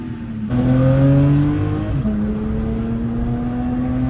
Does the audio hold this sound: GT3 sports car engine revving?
yes